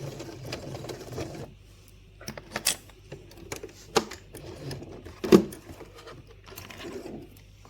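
A domestic sewing machine runs in short bursts to stitch a backstitch on fabric for bunting flags, with quiet clicks and pauses between the runs and no talking.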